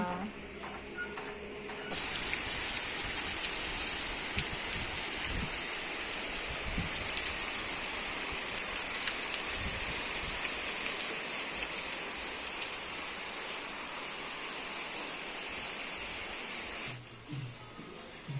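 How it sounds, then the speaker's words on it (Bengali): Heavy rain and gusting wind from Cyclone Remal pound outdoors in a steady, dense roar that holds at a constant level for most of the stretch, with a brief drop near the end. "বাইরে তো বেশ ভালোই হাওয়া দিচ্ছে আর বৃষ্টি হচ্ছে"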